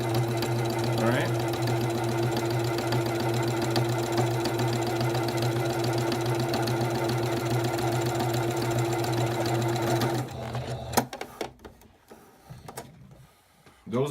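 Sewing machine stitching quilt fabric, a steady fast mechanical whir running loud and close for about ten seconds, then stopping and giving way to scattered handling clicks and rustles.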